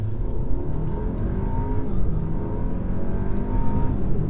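A 2015 Audi Q5 pulls hard under acceleration from inside the cabin, its engine droning and climbing steadily in pitch with a continuous, fairly loud drone and no talk over it.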